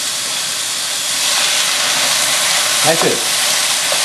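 Cooking wine hits a hot wok with vegetables and sizzles loudly in a steady, close, hissing fry, with a short stir and a brief spoken remark near the end.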